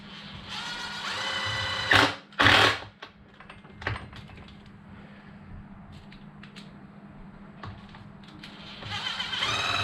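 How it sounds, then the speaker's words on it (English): A power screwdriver whirs in short bursts as screws are driven into the top plate of a Losi DBXL 32cc RC car, close and fairly quiet, with a low steady hum underneath and sharper handling clatter between runs. "Get these screws back in."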